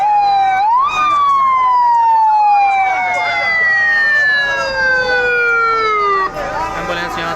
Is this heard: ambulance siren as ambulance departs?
yes